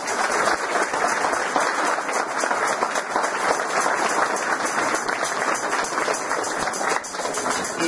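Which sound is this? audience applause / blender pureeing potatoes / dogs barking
audience applause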